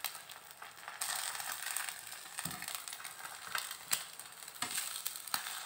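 A chicken and potato patty fries in hot oil over a medium flame, giving a steady broadband sizzle with crackling pops and spits scattered through it, close and fairly loud.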